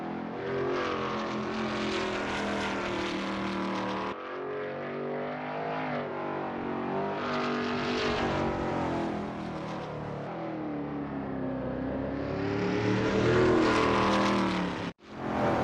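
A Veloce GTS-8 race car engine screams through the gears on the Pascani circuit in a racing game, rising and falling in pitch with sharp shift breaks, loud and continuous with a brief cut near the end.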